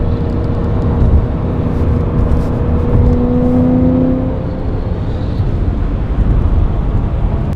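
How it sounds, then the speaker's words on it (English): Car driving along, a steady loud engine and road rumble heard from inside, with a rising tonal whine for a few seconds and no voices. "we're driving to the next spot"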